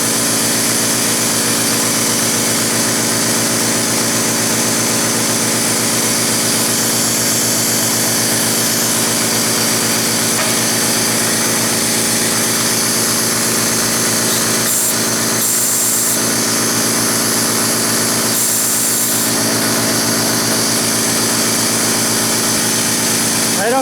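An air compressor bought at a tool auction runs without building pressure, giving a loud, steady motor drone with a constant whine that barely changes.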